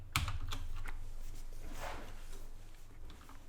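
Close computer keyboard typing of HTML code: a run of light, irregular key clicks with one sharper tap near the start, steady and moderately quiet, with no speech.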